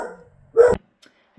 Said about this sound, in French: j'ai Plume qui s'est mis à aboyer.